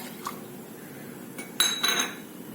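A cooking pot set down on a gas stove with a few metallic clanks and clinks, close and fairly loud against a quiet kitchen background, likely as water is poured in before jaggery is added.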